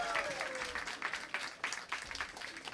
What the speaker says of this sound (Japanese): 黒色すみれのお二人に改めまして大きな拍手をお願いします